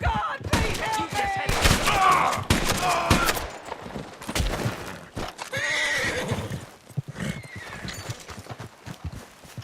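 A horse in Red Dead Redemption 2 whinnies loudly and repeatedly amid clip-clopping hooves, with bursts of gunfire and thuds crowding the scene close up.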